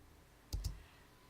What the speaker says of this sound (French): faites un appui sur la barre d'espace du clavier